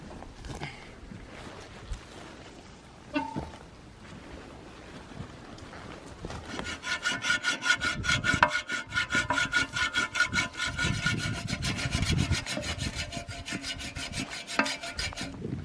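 Sawing through a felled tree trunk for a flagpole outdoors at a cabin: quiet rubbing at first, then a long run of loud, rhythmic back-and-forth saw strokes through wood, close by.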